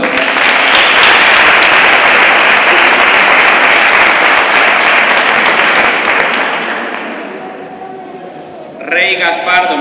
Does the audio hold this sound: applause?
yes